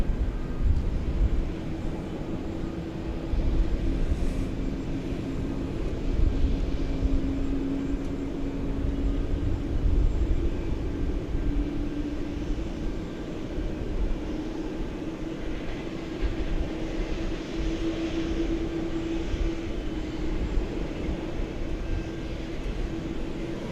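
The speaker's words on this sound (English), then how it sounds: "It's a relatively new 747, one of the final ones" A Boeing 747-8 jet at DFW Airport, a sustained distant engine rumble with a steady whine that slowly shifts in pitch as the aircraft moves, persisting throughout with no talk.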